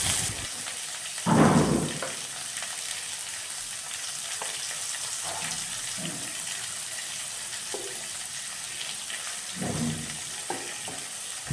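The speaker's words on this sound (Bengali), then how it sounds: "তো এখানে সমস্ত আলু দিয়ে দিয়েছি, দিয়ে দেওয়ার পরে কিন্তু আবার লাল লাল করে সুন্দর করে আমি ভেজে নেব।" Potato strips fry in oil with cumin in a kadai, a steady dense sizzle throughout with a few louder stirring scrapes.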